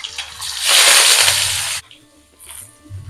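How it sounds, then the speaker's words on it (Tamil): Potatoes tipped into hot oil in a kadai already tempered with urad dal and mustard seeds, bursting into a loud, close sizzle for about a second before dying down to faint crackling. "கடாயில் எண்ணெய் விட்டுருக்கோம், அது நல்லா காஞ்சிருக்கு. உளுத்தம் பருப்பு, கடுகு, பண்ணி வச்சிருக்கிற உருளைக்கிழங்கை சேர்த்துடலாம்."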